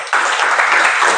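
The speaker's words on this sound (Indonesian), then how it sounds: "Tepuk tangan dulu." Steady applause from a classroom group bursts in after a brief quiet start and continues evenly, dense and close, with no voices over it.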